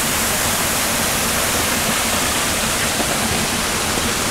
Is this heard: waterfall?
yes